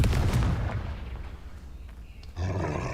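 Confringo fire-spell explosions in the video game Hogwarts Legacy: loud, booming blasts with a roaring rumble that fades, then a fresh burst erupts near the end.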